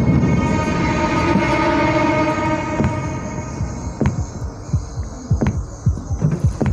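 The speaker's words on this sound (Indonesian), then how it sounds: "Deg-degan jantung." Heartbeat in the horror game Death Park, a steady low hum that gives way to a run of deep, throbbing thumps growing more distinct toward the end, with no talk.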